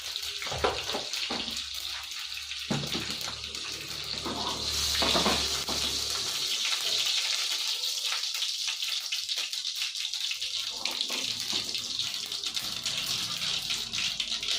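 Mustard, cumin and fennel seeds fry in hot oil for a sprouted fenugreek palya, making a steady, close sizzling hiss with crackles and spatters that lasts the whole time.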